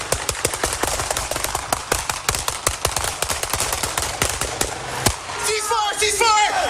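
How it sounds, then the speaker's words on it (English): Police M4 SWAT rifles fire in a dawn shootout in Denver, a long, rapid volley of sharp, loud, closely spaced shots. A final crack is followed by a voice calling out. "Ceasefire! Shots fired"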